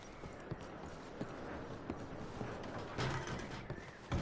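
Horses' hooves clip-clop in Red Dead Redemption 2, a soft, uneven run of thuds under a steady wash of ambient noise, with a few sharper knocks standing out near the end.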